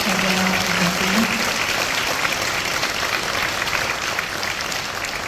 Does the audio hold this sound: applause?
yes